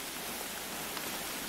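Steady rain in a hunting video game set in the woods, a dense unbroken hiss of falling drops with no distinct events, constant and fairly loud.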